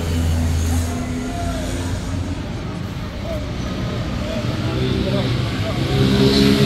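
A CG 200cc motorcycle engine revs up close, a loud rumbling drone that rises and swells toward the end, with people talking over it.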